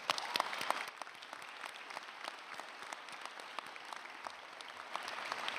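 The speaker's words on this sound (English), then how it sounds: "I think it is fitting we applaud their hard work and dedication." Audience applause fills a dental school convocation hall, a steady, fairly distant wash of many hands clapping that holds throughout, slightly louder at the start and end.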